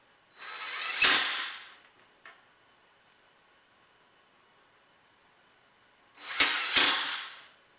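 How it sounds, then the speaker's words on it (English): A power drill drives pocket screws into a wooden bookcase panel held by a parallel clamp, giving two separate bursts of whirring with a quiet pause between them, close and moderately loud. "I'll attach it with pocket screws while holding it in place with a parallel clamp"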